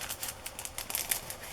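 Coffee-dyed tracing paper on a handmade journal tag crinkling, a quick run of crisp, papery crackles and rustles up close for under two seconds.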